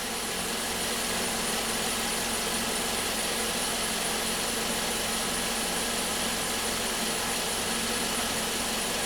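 A 2014 VW Jetta with a GDI turbo engine idles steadily with an intermittent misfire and low power, giving a continuous even engine hum and broadband hiss with no talking.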